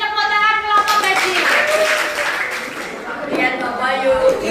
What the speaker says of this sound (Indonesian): kita beri tepuk tangan kelompok gaji